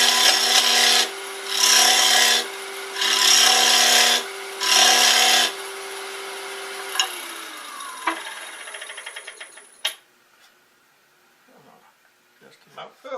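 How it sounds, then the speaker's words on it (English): A small ball gouge cuts into a spinning wooden lid in four loud, steady bursts, then the lathe winds down and scattered light taps and scrapes follow. "we'll just open it up with a small ball gouge"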